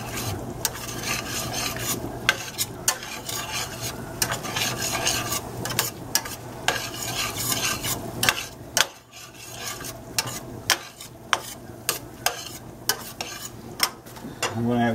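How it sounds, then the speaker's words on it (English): Beef broth being stirred into a shepherd's pie filling in a pan, a wet rasping scrape with a steady sizzle underneath and sharp utensil clicks against the pan, mostly in the second half. "Now we'll put some beef broth in there. Give that a little mix."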